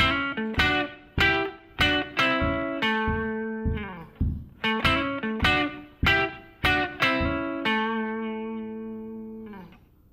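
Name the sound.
blues guitar riff, 12-bar blues in A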